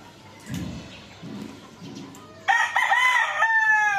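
Hens and a rooster in a backyard flock: low clucking and scratching come first, then a loud rooster crow bursts in close by and rings out for about a second.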